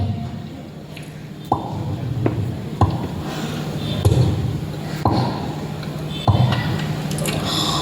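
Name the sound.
voice imitating water dripping from roof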